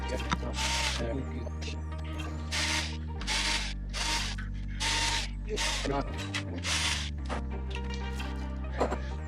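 Ratchet wrench loosening bolts on an engine being prepped for a swap, loud close buzzing ratchet bursts repeating in a steady rhythm over a droning low hum, with no talk.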